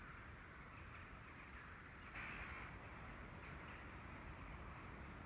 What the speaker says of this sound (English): we have just had a lot of crows move in